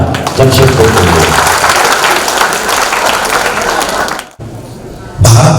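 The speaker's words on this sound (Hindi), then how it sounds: "एक बार जोरदार तालियां जमशेदपुर के लिए" Audience applause in a hall before a play staged in Jamshedpur, a dense sustained clapping wash with a voice murmuring underneath, cutting off abruptly near the end before a voice resumes.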